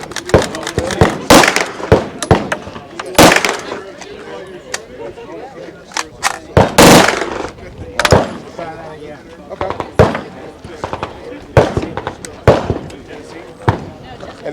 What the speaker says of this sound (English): And they're nice enough to let us shoot this full auto subgun.